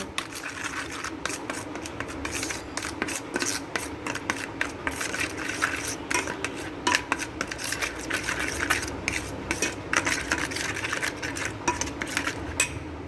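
Hands mix a green chilli, garlic and ginger paste into chicken in a bowl, a continuous close, wet rubbing and squelching with faint clinks, no talking.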